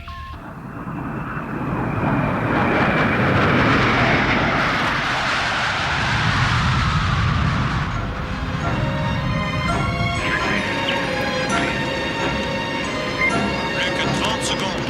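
Aircraft engines roar steadily as planes prepare for takeoff, loud and close at first, then turning to a lower hum with tonal whine, while voices speak over it.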